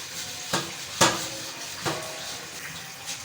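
Dishes, pots and pans being washed in a home kitchen, a few separate clanks and knocks of metal and crockery over running water, close and unhurried.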